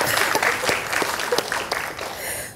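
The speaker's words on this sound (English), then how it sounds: "Applause, another one." Applause from an audience at an academic plenary session, a close, dense patter of clapping that thins out and fades near the end.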